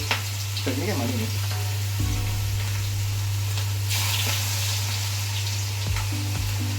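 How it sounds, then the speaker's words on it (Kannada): Garlic kebabs dropped one by one into hot oil to deep-fry, giving a steady bubbling sizzle over a low constant hum, with a few soft knocks as pieces go in. "ಸೊ ಬನ್ನಿ ಈಗ ಎಣ್ಣೆಗೆ ಬಿಡೋಣ ಒಂದೊಂದೇ ಕಬಾಬ್ ಮಾಡಿ"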